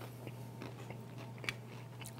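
Someone bites into crunchy coleslaw made with cabbage and pineapple, giving a few quiet close crunches and chewing sounds with no speech.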